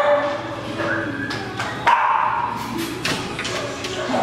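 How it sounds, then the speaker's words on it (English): A Jindo Shiba mix dog barks and yips several times nearby, with whimpers and thumps between the barks and people talking over it. "That's the dog right there."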